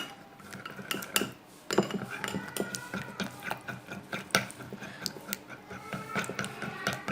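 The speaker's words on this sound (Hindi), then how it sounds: "अब इनको अच्छी तरह से मिक्स कर लेंगे।" Ingredients for a homemade ginger night cream are stirred together in a bowl, with repeated clinks and scrapes of a spoon against the bowl in an irregular rhythm, close and fairly quiet.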